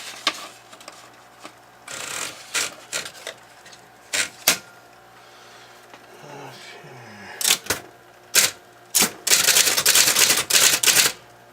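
An SR2000 electric typewriter types in scattered single keystrokes and short bursts, ending in a fast, continuous run of clattering strikes. Motor hum sits underneath, and the typing is close and crisp.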